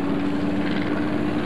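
A gyrocopter drones with a steady whirring rotor and engine hum, moderately loud and continuous.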